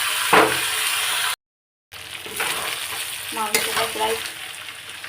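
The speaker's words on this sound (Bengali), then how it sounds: "আর দেখো আলুটা ফ্রাই করে" Potatoes fry in a pan with a close hiss and crackle, a brief scrape at the start, a short cut to silence, then renewed sizzling with clattering stirring noises.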